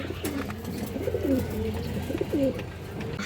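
A high-quality male Army breed pigeon coos repeatedly at close range, several throaty rolling coos over a steady background hum, with no speech.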